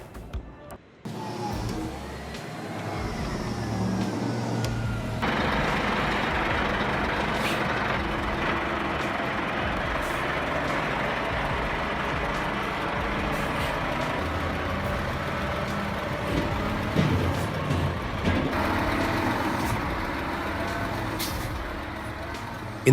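A Scania 8x8 G490 truck hauling a 32-ton stone payload through a Carrara quarry, its diesel engine droning steadily with sharp hisses of air brakes released at intervals, loud and close, with no talk.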